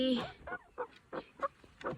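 A nearby village rooster with two hens makes a quick series of short, clucking calls in an uneven rhythm, each burst brief and fairly clear.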